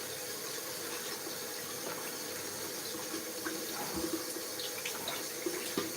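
A kitchen tap runs in a steady, fairly quiet stream while something is quickly washed beneath it during pizza margherita preparation, with a few small knocks and splashes toward the end.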